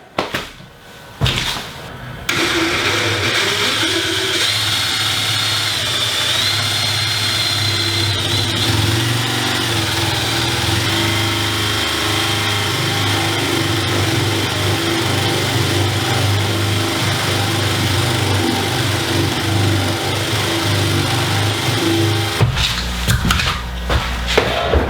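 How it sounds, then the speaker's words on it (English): A drill bores a hole for a beer tap shank in a bottle filler setup, running as a steady, loud motor whine for about twenty seconds after a short start, close by with no talking. "So let's get that drilled out."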